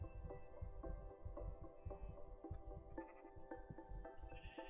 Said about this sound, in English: And let's take this sheep right here.